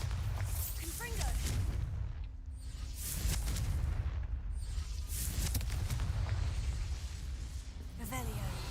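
Confringo fire spells burst in Hogwarts Legacy, several booming blasts spaced a second or so apart over a dense, continuous game soundscape with loud low rumble.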